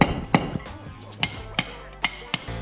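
A hammer strikes bolts while coilover hardware is being transferred, producing sharp metallic knocks in an irregular rhythm, about six or seven close, moderately loud hits.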